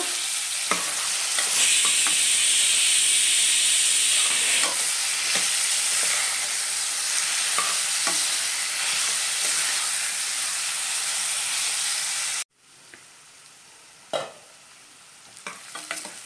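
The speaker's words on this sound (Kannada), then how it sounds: "ಇದು ಎಣ್ಣೆನಲ್ಲೇ ಫ್ರೈ ಮಾಡಿಕೊಂಡು ಬೇಯಿಸ್ಕೊಬೇಕು." Small pieces of radish fry in hot oil for a sambar, giving a steady, close sizzle with occasional stirring scrapes. The pan goes quieter near the end, leaving only a few faint clinks.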